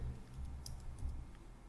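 Quick keystrokes on a computer keyboard as a short command is typed, a few soft clicks close by in a quiet room.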